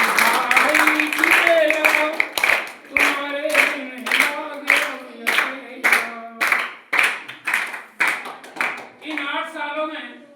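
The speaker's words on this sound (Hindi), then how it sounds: "तालियां हो जाए" At a school farewell, the audience claps in steady rhythm along with a sung farewell song. Sharp, evenly spaced claps continue for about ten seconds under the singing voice, loud and close.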